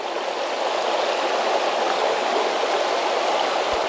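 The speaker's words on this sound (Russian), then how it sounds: "Каждый верхний водопад красивее, чем предыдущий." Waterfall on a stream in Crimea, a steady broadband rush of falling water heard close and loud, continuous and unchanging throughout with no voices.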